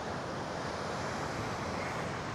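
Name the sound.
ocean waves, 3 to 4 foot surf, seen from a pier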